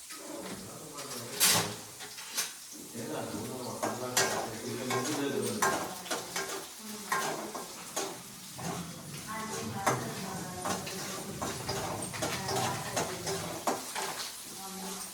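Curry leaves and green chilies frying in a pan, a busy crackling sizzle with stirring scrapes and occasional clatter of utensils, close and steady throughout; a voice talks intermittently over the cooking.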